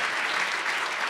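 A seated audience keeps clapping for youth leaders coming onstage, a dense, steady wash of applause from many hands with no break.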